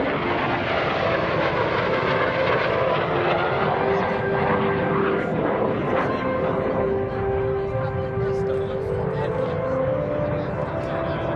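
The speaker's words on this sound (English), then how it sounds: "Randy Ball in the MiG-17, now from the right." A MiG-17 jet fighter flies past at an air national guard open house airshow in Rhode Island, a loud continuous engine roar that swells and shifts in pitch as it passes, with an announcer talking over it.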